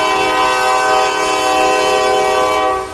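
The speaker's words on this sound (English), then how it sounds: "Train!" A train passes close by with its horn sounding loudly and steadily throughout, a harmonic blare over rumbling wheels, fading slightly at the end; nobody speaks.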